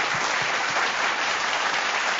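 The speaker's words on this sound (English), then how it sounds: "Big round of applause, everybody." A conference audience at a keynote interview claps steadily, a dense, even burst of applause throughout.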